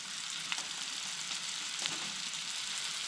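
Garden kale frying in butter in a pan on a wood stove, a quiet, steady high sizzle with a few soft stirring scrapes, faint and close, no voices.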